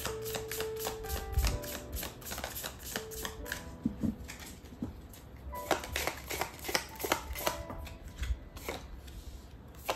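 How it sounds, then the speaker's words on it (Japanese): Tarot cards being shuffled and dealt out on a table, a dense run of close riffling and crisp snapping card sounds, with a few soft thumps as cards are laid down. "これもカードを4枚出して見ていきます"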